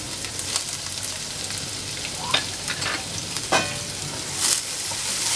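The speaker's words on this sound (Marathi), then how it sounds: "मग घालूया हिंग लसूण पण रंग बदलायला लागलाय त्यात मी आता कांदा घालणार आहे" Onion sautéing in a pan with asafoetida and garlic for a Marathi bitter gourd bhaji, giving a steady close sizzle and fry with a few louder stirring scrapes. No voices are heard.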